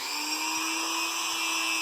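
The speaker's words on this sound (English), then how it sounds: "we want to go ahead and sand down the rough edges." A rotary tool sanding the rough cut edges of a plastic bottle, a steady high-pitched whine held at constant speed, close and loud with no talking.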